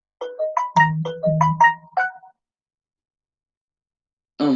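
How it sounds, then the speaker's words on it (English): A phone ringtone plays a bright, chiming melodic phrase of about nine quick notes, loud and alone, followed by silence and a short burst of another sound at the end. "Sorry, phone call."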